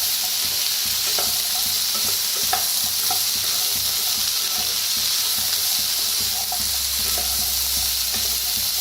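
Salted bitter gourd is stir-fried and mixed in a pan with green chillies, making a continuous close sizzle and hiss with scattered scraping and stirring knocks.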